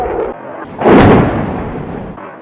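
MK82 500-pound bombs detonating during an air force live fire demonstration, a single heavy blast rising from a rumbling background and rolling off into a long, dull decay, heard from a distance.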